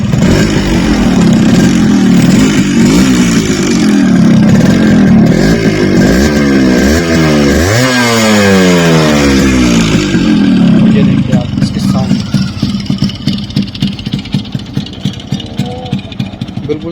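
Restored Yamaha RX 100 motorcycle engine starts and revs hard, with rising and falling pitch sweeps in the middle, then settles into a steady throbbing idle, loud and close.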